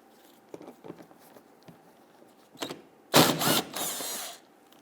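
Bolts along the underside of an Infiniti G37 front bumper cover being loosened and removed, with faint scattered clicks and mechanical clatter, then a louder burst of ratcheting or whirring for about a second and a half.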